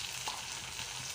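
Browned onion frying in a pan with freshly added ginger garlic paste and tomato, giving a soft, continuous sizzle at moderate distance with faint stirring and no voices.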